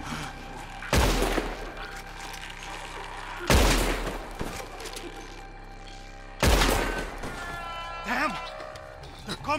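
Gunfire rings out in a Red Dead Redemption 2 shootout: three loud, separate shots a few seconds apart, each booming and then echoing away, with shouting and talk between them.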